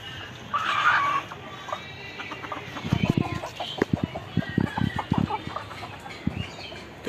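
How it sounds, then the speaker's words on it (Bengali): Native chickens feed close by, giving soft clucks and a run of sharp pecking taps at their food, with brief rustling between. "মুরগিগুলো খুব সুন্দর খাচ্ছে আপনারা দেখতেই পাচ্ছেন ভিডিওতে"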